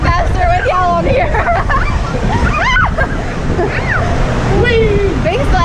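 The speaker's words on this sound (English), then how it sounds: "Big splash." Riders hit the water with a big splash at the bottom of an indoor water park slide, churning water and sloshing heard amid excited voices and background crowd babble.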